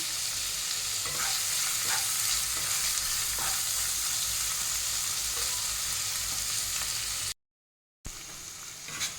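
Tomatoes with salt sautéing in a pan for a Bengali fish-roe curry, a loud continuous sizzle with stirring, broken by a brief gap of silence near the end.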